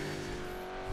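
Ford V8 supercar engine droning steadily as it brakes and slightly locks up into a right-hander at Brands Hatch in a racing game, a loud constant engine tone throughout.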